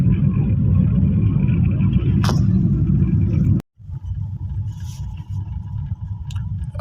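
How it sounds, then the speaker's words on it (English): Road traffic on an expressway in Kitengela, Kenya, heard as a loud steady low rumble of moving vehicles during a morning drive, broken by a brief dropout before the rumble resumes. "That's the traffic."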